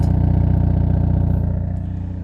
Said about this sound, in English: the exhaust is really, really loud on these